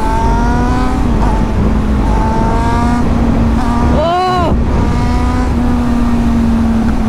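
A motorcycle engine holds a loud sustained drone during a night wheelie on a group ride, with a quick rev swell midway, continuous and close.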